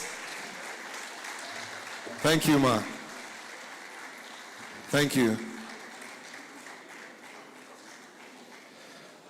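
An audience at a professional conference breaks into two short bursts of clapping, each lasting under a second, over a quiet room while a voice briefly speaks.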